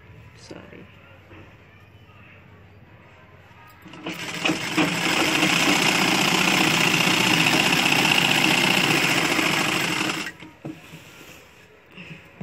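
A sewing machine stitches a dhoti shalwar, running as a steady, fast, whirring rattle for about six seconds and then stopping, with quieter handling noises before and after.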